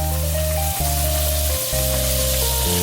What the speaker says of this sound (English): we're going to put in 1 tablespoon of butter. We're going to let that melt